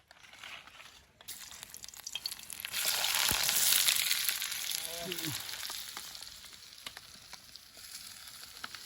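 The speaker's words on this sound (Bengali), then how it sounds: "তো এখন তেলটা তাতিয়ে গেছে, তখন পেঁয়াজগুলো দিয়ে দিব।" Onions, chillies and garlic hitting hot oil, a steady sizzle and crackle that swells after they drop into the pan and then settles, with faint stirring and a voice in the background.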